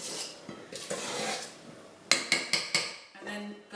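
Carrot and banana cake batter being folded with egg white in a bowl: soft scraping, then a run of four sharp utensil clinks against the bowl in quick succession, close and clear, with no talk.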